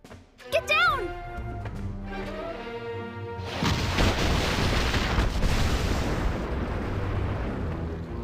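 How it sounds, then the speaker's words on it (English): Cannon bombardment from War of the Visions crashes in at midpoint as a dense, loud rumble of distant blasts, following short tonal effects and voiced chatter earlier. "Cannon fire incoming!"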